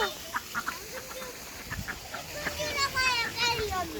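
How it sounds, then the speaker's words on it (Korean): Honking goose calls ring out at a sheep farm in Jeju, growing louder in the second half, while people and children talk nearby. "거위 있어"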